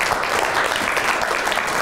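Steady dense applause from a seated audience at a media master class, welcoming a guest onto the stage, loud and continuous throughout with no voices on top.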